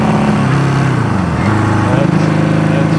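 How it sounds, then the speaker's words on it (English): A Honda CB200T motorcycle with a broken camshaft runs on the road, its engine droning loudly and steadily with shifting pitch and slight breakup, close to the rider. "I guess it's running like a CB200."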